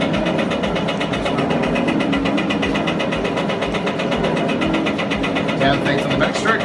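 A Zocca 500 metal shaper runs under automatic down feed, its ram stroking back and forth in a steady, rhythmic mechanical clatter that stays close and continuous throughout.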